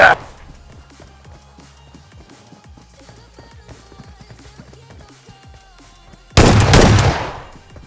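Gunfire in the mobile battle royale game BGMI, played on an iPhone 15: a faint patter of distant shots under game music, then a sudden loud close burst near the end.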